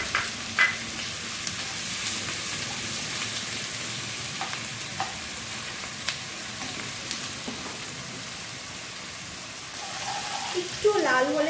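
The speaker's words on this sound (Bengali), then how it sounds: "তেলটা গরম হয়ে গেছে চলো ফার্স্টে পেঁয়াজ কুচিটা দিচ্ছি" Chopped onion dropped into hot oil sizzles and crackles steadily in a pan, a dense, even frying hiss with occasional small pops and a stirring scrape near the end.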